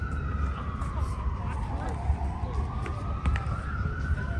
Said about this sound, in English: the ambulance probably coming for them